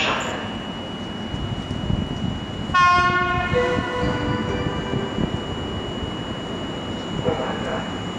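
An EP07 electric locomotive hauling an InterCity train rolls into Poznań Główny station, with a steady rumble of wheels on rail and a loud horn blast partway through.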